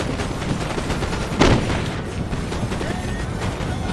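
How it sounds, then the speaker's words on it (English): Musket volleys crackle in a dense, rolling fusillade during a Napoleonic battle video game, with one louder burst standing out over a constant din of gunfire and battle noise. "You can see my men firing into the trees"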